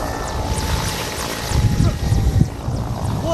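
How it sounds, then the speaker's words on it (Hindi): An air force helicopter hovers over an outdoor air show while troops rope down from it. Its engine and rotor give a loud, steady roar that fills the whole clip, joined by a slightly rougher chopping pulse near the end. "एक जो जवान हैं वो हेलीकॉप्टर से लैंडिंग कर रहे हैं रस्सियों के माध्यम से"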